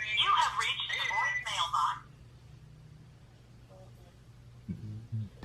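A phone call rings out in a warbling electronic burst of about two seconds, then a quiet stretch with a low hum before a voice begins briefly at the end.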